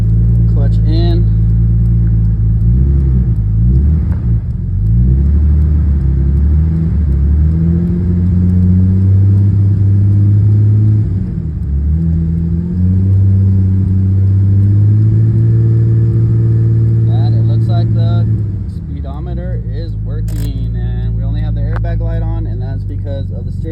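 Nissan Skyline R34 25GT with a manual swap, engine running with a steady low idle rumble and several revs rising and falling, voices faintly present under the engine.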